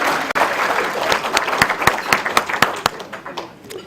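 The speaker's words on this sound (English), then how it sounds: "Let us clap." A crowd at a press event on hypertension and non-communicable diseases breaks into applause, a dense burst of clapping with sharp individual claps that fades toward the end.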